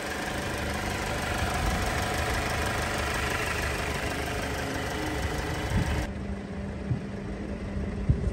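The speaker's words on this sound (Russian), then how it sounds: "Двухлитровый турбированный мотор, напомню, здесь установлен." A two-litre turbocharged engine in an Alfa Romeo Giulia idles steadily with a low, even rumble and light knocking texture. It is heard alone at moderate level, with a few faint clicks toward the end.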